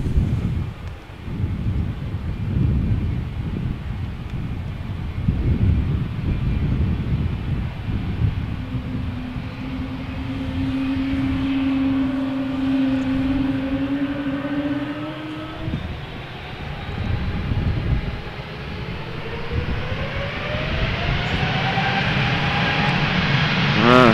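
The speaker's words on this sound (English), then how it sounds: "E2 Embraer 195 with the big engines going to Billund" A KLM Embraer 195 E2 jet with large engines departs Schiphol, its loud broadband engine roar building and rising in pitch over about twenty seconds, steady and close without any talk.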